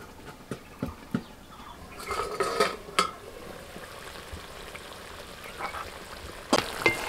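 Chicken chaap is stirred in a pot after the lid comes off, with a few scraping and clinking strokes over a soft sizzle, close and moderately loud with no speech.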